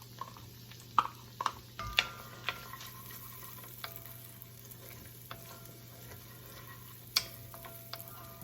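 Leek cooks in melted butter over medium heat for a risotto, a soft low sizzle broken by several sharp stirring clicks and taps from a utensil against the pan, with no talk.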